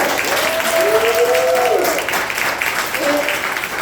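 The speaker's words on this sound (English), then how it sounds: "So let's clap it up for them." Audience applause at a stand-up comedy show in Tucson, a steady dense wash of clapping filling the whole stretch, with a voice briefly rising over it near the start and again toward the end.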